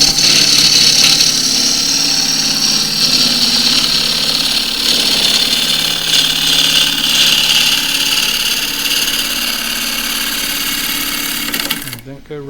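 A wood lathe spins a pistachio wood bowl blank while a gouge trues up the top face, giving a steady whirring, scraping drone that holds for many seconds before stopping abruptly near the end.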